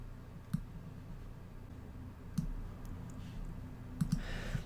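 Mouse clicks while working in Affinity Photo software, a few sharp isolated clicks spaced across a quiet room hum, including a quick double click near the end.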